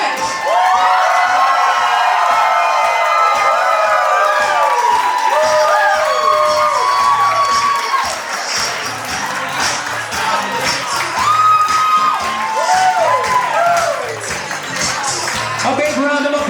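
Wedding guests cheer and whoop loudly for the wedding party entrance, with sustained crowd shouting and scattered applause throughout, and an announcer's voice occasionally carrying over the noise.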